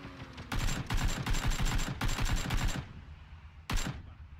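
Rapid automatic gunfire in the video game PUBG, two long bursts of close, loud shots followed after a pause by one brief final burst.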